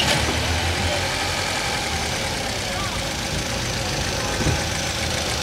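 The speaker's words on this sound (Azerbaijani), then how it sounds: "Bizim alıcılarımız motorun səsini də eşitsin." A used car's engine idles at the Sumqayit car market, giving a steady, close rumbling drone with an even, unbroken texture throughout.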